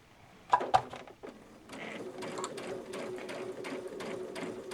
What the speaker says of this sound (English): I'll put my foot down and I will try to sew around the camera, and I'm going to start to sew.